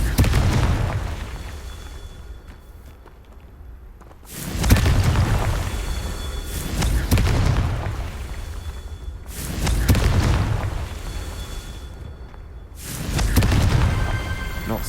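Confringo blasting spells exploding in Hogwarts Legacy: four loud, booming blasts, each with a sharp onset and a rumbling tail, spaced a few seconds apart.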